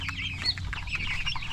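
Fifteen-day-old broiler chicks cheep and cluck in quick, overlapping high chirps, close and moderately loud over a low steady hum, with no talking.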